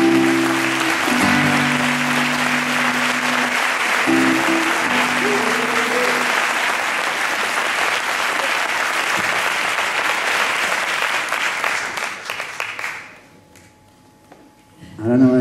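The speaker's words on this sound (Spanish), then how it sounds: "Por favor, un aplauso." A concert crowd at a farewell show bursts into loud, sustained applause with a few brief tonal sounds near the start; the clapping carries on for about twelve seconds before fading away to near silence.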